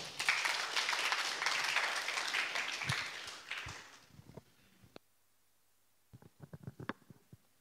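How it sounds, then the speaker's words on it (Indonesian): An audience in a hall claps to welcome a speaker at a discussion gathering. The dense applause lasts about four seconds and fades out, followed by a few scattered faint knocks and shuffles. "Mari kita berikan tepuk tangan yang meriah"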